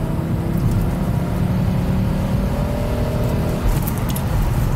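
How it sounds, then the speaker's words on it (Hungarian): The five-cylinder engine of a 1992 Audi 80 quattro 2.3E gives a loud, steady drone while driving, with a faint rising tone partway through and no talking. "Az 5 hengeres hang."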